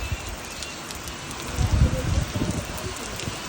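Sudden rain falls on an open farm field, a soft steady patter of drops with gusts of wind, growing somewhat heavier midway while voices talk faintly.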